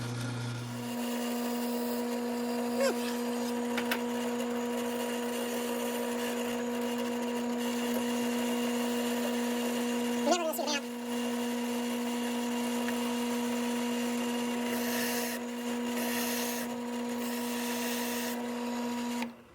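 A steady mechanical whine from a drill press doing engine turning on metal runs throughout with a constant pitched hum, punctuated by occasional scraping metallic touches, with no talking.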